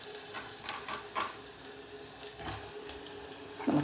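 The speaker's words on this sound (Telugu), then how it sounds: "ఇదిగో వేగుతుంది" Curry leaves, onion and drumstick pieces fry in hot oil in a pan for an Andhra-style vegetable curry, giving a soft, steady sizzle with occasional light stirring clicks, faint and close.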